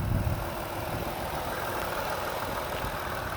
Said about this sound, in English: Let me pop the hood real quick so you can listen to it run.